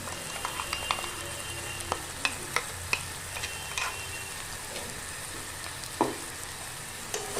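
Ground sesame paste sizzling as it is stirred into frying ridge gourd in a pan, a steady close sizzle with occasional spoon clicks and scrapes.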